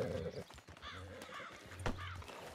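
Horse hooves at a trot in the video game Red Dead Redemption 2, a rhythmic clip-clop under voices talking, with neighs and other animal calls mixed in.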